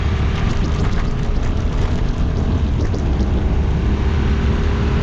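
A Yamaha Tenere 700 motorcycle engine rumbles steadily with a dense, rough low roar, loud and continuous for several seconds, with no distinct rev peaks standing out.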